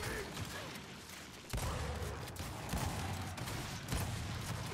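Gunfire from the shooter game Gears of War 5, with bursts of shots cracking through continuous battle noise that swells louder partway through, with no speech over it.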